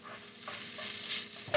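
A plastic spoon stirs ramen noodles in a non-stick pan, making soft, steady scraping and swishing strokes up close, with a faint sizzle underneath and a sharper clack at the very end.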